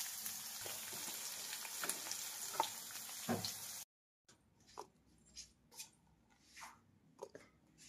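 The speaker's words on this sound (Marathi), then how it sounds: "त्यासाठी आपण जिरे टाकले तेलामध्ये, मोहरी, त्यानंतर टाकणार आहे कढीपत्ता, नंतर टाकणार आहे कांदा." Onion frying in hot oil with cumin, mustard seeds and curry leaves for misal pav, a steady close sizzle that cuts out abruptly, then returns as softer spitting bursts and stirring.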